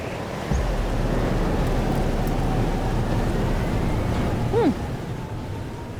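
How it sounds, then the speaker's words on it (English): Steady heavy rain and rumbling storm noise in the video game Life is Strange: Double Exposure, a continuous wash with a brief rising tone near the end, no talk. "It's here too. But there wasn't a storm the day Safi died"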